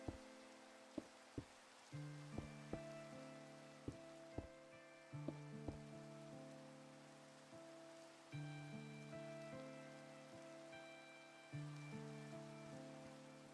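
Rain in a Minecraft-style block-building video game falls as a steady soft patter, with scattered sharp clicks of blocks being placed and a faint melodic tone drifting over it, no one speaking.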